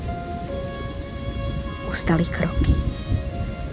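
Rain falling steadily with a thunder rumble partway through, under a narrator's spoken voice and a few footsteps or knocks.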